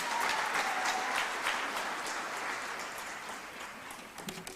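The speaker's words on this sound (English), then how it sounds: "One more round of applause" Audience applause at a United Nations Habitat Assembly session, a dense steady clapping from a large crowd that slowly fades toward the end.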